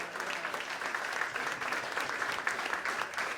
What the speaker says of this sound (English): I want everybody to give these people over here a round of applause.